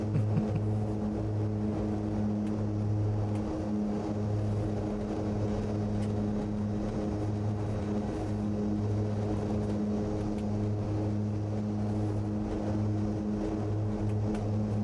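Steady, loud propeller drone of a military-variant SC.7 Skyvan in a flight simulator flying over Alaska, with strong low engine harmonics holding constant throughout and no speech.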